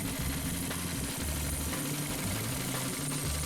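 A Predator 212 go-kart engine, freshly cleaned carburetor and air cleaner refitted, idles steadily while warming up, with a low, uneven chugging pulse that stays fairly quiet and even throughout.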